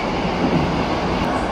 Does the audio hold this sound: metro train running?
yes